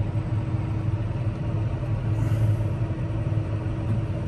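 John Deere 6215R tractor engine running steadily in reverse, a continuous low rumbling drone at close range with no speech over it.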